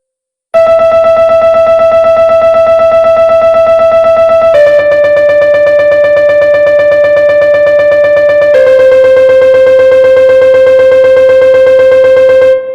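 Demisemiquaver notes on a pitched instrument, repeated so rapidly they nearly blur into a continuous buzzing tone. The pitch drops twice in steps, and the passage is loud and steady with no speech.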